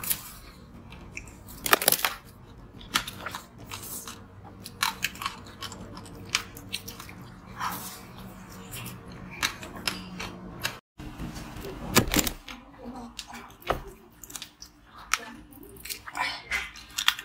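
Ice is bitten and chewed close to the mic in an eating-sounds session. Irregular sharp crunches and cracks are mixed with softer grinding chews over about seventeen seconds. A faint voice is heard in places.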